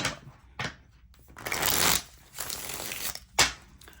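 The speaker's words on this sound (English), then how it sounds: "One more shuffle." Tarot cards are shuffled in several quick riffled bursts, crisp fluttering rasps separated by short pauses, close and fairly loud.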